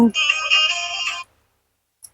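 A phone ringtone plays a short, bright electronic melody for about a second and then stops, followed by silence and a faint click.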